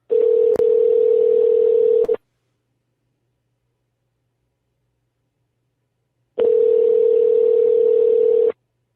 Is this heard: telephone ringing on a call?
yes